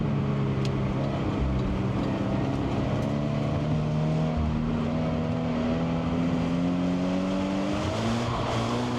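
A car lapping a rain-soaked race track at Mission, its engine droning steadily close by with shifting revs, sustained hiss of spray and tyre noise throughout, no talking.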